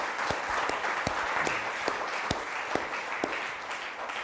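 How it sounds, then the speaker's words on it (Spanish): A church congregation applauds with a steady wash of clapping, a few louder claps standing out, and faint voices now and then underneath. "Denle un aplauso, Señor, por favor"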